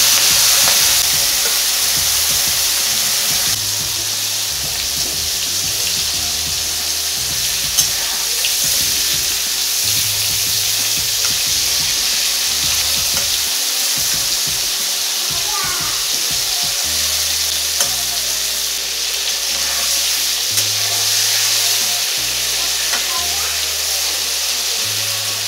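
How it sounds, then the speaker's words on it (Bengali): Shrimp coated in salt and turmeric sizzle and fry steadily in a hot pan of oil, a continuous close crackle with occasional stirring throughout. "প্রথমে আমি মাছগুলো ভেজে নেব।"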